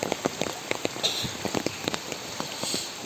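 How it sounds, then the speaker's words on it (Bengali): Heavy rain pours steadily onto a surface in a village in Sonagazi, Feni, Bangladesh, near a flooded pond and road; dense patter with distinct drops splashing close by, no voices. "আজকে সকাল হতে বৃষ্টি, অনেক বৃষ্টি হইতেছে"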